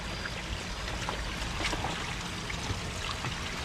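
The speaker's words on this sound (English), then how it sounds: "we should hopefully start seeing some water shooting in here in a minute" Water from an Oase Biotec Screenmatic pond filter in a koi pond gushes and splashes in a continuous rush, loud and unbroken throughout, with no voices.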